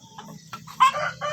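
Native village hens in a small laying flock of fifty cluck in short, uneven bursts, close by, with one louder, higher squawk near the end and no voices over them.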